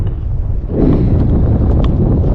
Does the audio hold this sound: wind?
yes